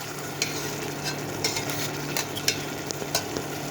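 Shrimp sautéed with tomato and spices in a pan, with a low constant sizzle and a run of quick spatula scrapes and taps, close and fairly loud, with no talking.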